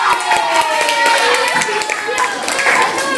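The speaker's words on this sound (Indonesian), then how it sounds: "Ibu, tepuk tangan untuk Aileen." Classroom clapping for a student named Aileen during a teacher's coaching lesson, a dense patter of hands running throughout with children's and adult voices talking over it.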